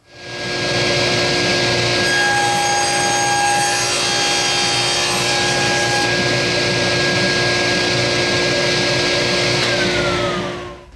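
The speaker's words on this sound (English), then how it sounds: "let's head over to the table saw and cut some 1/2 inch maple at 1 3/4 inches wide" A table saw rips a 1/2 inch maple board to 1 3/4 inches wide, spinning up into a loud, sustained whining roar with a rough cutting texture, then winding down at the end; no talking.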